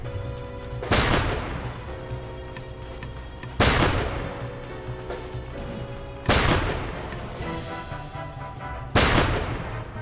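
Grenade blasts in the Empire of Sin video game: four heavy, booming explosions spaced a few seconds apart, each a sharp hit with a rolling decay over steady game background sound.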